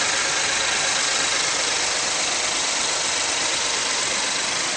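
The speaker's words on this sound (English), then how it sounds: "Listen to that EcoBoost engine run." A 2011 Ford F-150 pickup with an EcoBoost engine idles under the open hood, a steady, smooth hum with broad hiss and no voices across the whole stretch.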